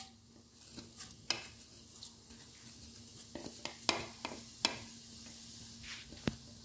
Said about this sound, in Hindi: ऑयल गर्म हो चुका है, अब इसके अंदर ज़ीरा ऐड करेंगे